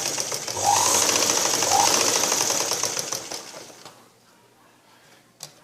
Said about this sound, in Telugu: ఇప్పుడు మనకి ఇది తాళ్ళు భాగం కాబట్టి పైనుంచి స్టిచ్చింగ్ చేసుకోవాలి